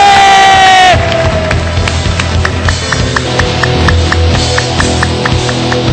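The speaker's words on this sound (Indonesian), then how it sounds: "Kasih tepuk tangan dulu Bapak Ibu" A talk-show studio audience breaks into loud, sustained cheering and applause right after a brief falling tone, with a dense crowd roar and crisp clapping continuing to the end.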